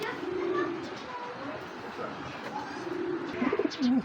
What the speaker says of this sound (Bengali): এই যে পেয়ারটা ডাকাডাই করতেছে